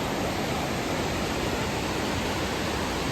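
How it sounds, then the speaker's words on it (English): A waterfall in the Daintree Rainforest roars as a steady, dense, unbroken rush of falling water, loud and fairly close, with no voices over it. "first waterfall has been found"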